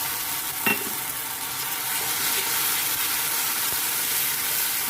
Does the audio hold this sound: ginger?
yes